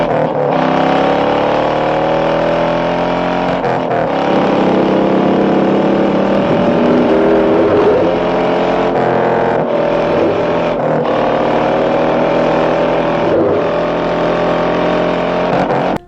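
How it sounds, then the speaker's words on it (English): Car engines roar loudly with rising and falling revs, several high-pitched whines sweeping over a constant rumble, with no talking. "The engines are roaring, the tires are squealing"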